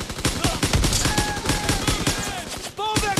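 Continuous heavy gunfire in Call of Duty: WWII, rapid machine-gun bursts and rifle shots ringing out close and loud, with whistling tones over the top and brief shouting voices in the mix.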